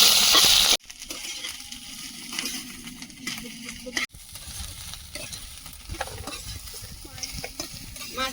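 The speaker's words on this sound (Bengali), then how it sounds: "এবার মাছের ডিমটা দিয়ে আরো একটু ভেজে নেবো" Potatoes and fish roe frying in a pan, a close sizzle broken by repeated spatula stirring scrapes and knocks, with one brief louder burst at the start and no talk over it.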